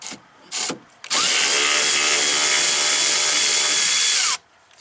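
A power tool spins out 10 mm bolts from the door of a 2006–2010 Chevrolet Cobalt during window regulator work, with two short bursts, then a loud, steady whine lasting about three seconds before stopping.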